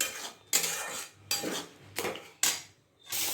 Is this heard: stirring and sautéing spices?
yes